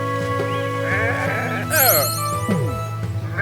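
Sheep in the video game Renowned Explorers give a couple of bleats, one long wavering cry and a shorter one, over steady game music.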